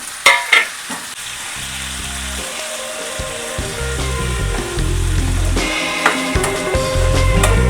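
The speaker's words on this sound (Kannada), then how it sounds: "ಇವಾಗ ಒಂದು ಮೂರು ಟೊಮೊಟೊ ಉದ್ದು ಕಚ್ಕೊಂಡಿದ್ದೀನಿ ಎಣ್ಣೆಯಲ್ಲಿ ಫ್ರೈ ಮಾಡ್ತಾಯಿದ್ದೀನಿ" Chopped onions and three chopped tomatoes frying in oil for a mushroom tikka masala, a steady close sizzle with sharp clattering stirs at the start and scraping strokes throughout, growing slightly louder toward the end.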